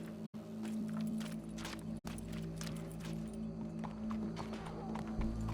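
Horse hooves clip-clop in a steady walking rhythm in Red Dead Redemption 2, fairly quiet against a low ambient hum, with two brief dropouts in the sound.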